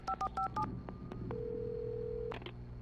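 Telephone dialing in the Alan Wake video game: a quick series of bright keypad tones, then a long steady tone on the line before a couple of closing clicks.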